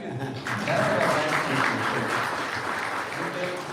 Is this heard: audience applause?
yes